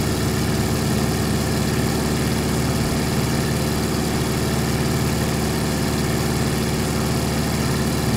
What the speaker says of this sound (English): Very constant sound on the engine.